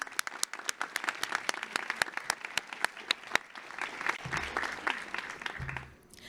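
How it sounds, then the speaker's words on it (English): Audience applause fills the room at a National Honor Society induction ceremony, a steady burst of many hands clapping together that carries on for several seconds before tapering off. "So round of applause for them"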